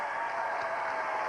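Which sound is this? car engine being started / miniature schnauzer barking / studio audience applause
studio audience applause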